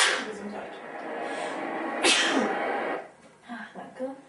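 One person sneezes hard mid-clip amid a German-speaking gaming chat, a short breathy burst standing out over ongoing talk and background game noise.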